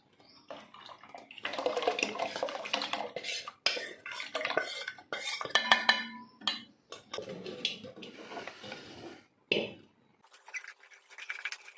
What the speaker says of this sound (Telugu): కింద అడుగంటకుండా కలుపుకుంటూ చేసుకోవాలి